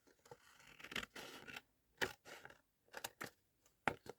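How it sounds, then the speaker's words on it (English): Scissors cutting away the excess paper around a photo print, a run of close, crisp snips and slicing strokes in irregular bursts with short pauses between them, no voice. "I might just cut off the excess around here first, around the photo."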